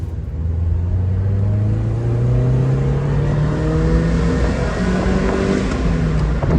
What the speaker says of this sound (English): it's enough to gently push the car from 0 to 60 in